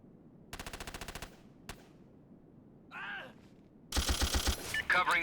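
Bursts of automatic gunfire from SOCOM U.S. Navy SEALs Fireteam Bravo on the PSP: a fast rattling volley, a single sharp shot, then heavier overlapping fire mixed with radio-style game voices near the end.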